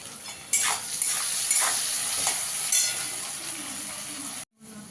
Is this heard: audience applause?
no